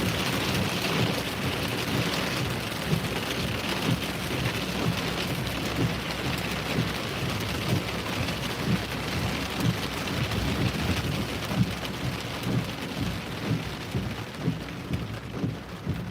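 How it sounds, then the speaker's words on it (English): Heavy rain pours steadily through a Massachusetts thunderstorm, a dense continuous wash of drops with low thunder rumbling underneath, loud and close throughout with no voices. "We're right in the big tall part of the storm."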